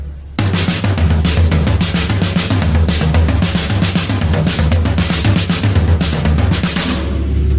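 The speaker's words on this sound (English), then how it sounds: "here's a couple examples of the triplet crossovers." A drum kit plays fast triplet crossover patterns, the hands moving between drums over a steady low kick and cymbal wash, loud and continuous with no speech.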